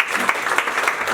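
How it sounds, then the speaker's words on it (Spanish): An audience at an event applauds in a short, steady burst of close, dense clapping. "un fuerte aplauso para Álvaro."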